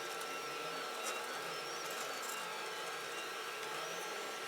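A 3D printer running a PLA print with the nozzle at 200 and the heated bed at 60, its cooling fan on, gives off a steady, even whirring hum that holds unbroken and fairly close throughout.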